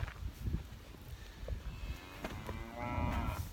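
Bred cows on a farm: a few moos, some close and some farther off, over low rustling and shuffling, with one longer drawn-out low toward the end.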